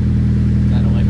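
A Nissan SR20 engine idles after a Deatschwerks fuel system overhaul, running a little rich: a loud, steady low rumble with an even pulsing beat, up close and alone.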